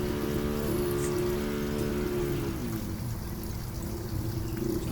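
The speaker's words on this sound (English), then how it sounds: "Sounds like a chainsaw in the background. It's actually a motorcycle." A motorcycle passes in the background outdoors, a buzzy, chainsaw-like engine drone that holds steady and then drops in pitch midway as it goes by, fairly faint and continuous, with no talking.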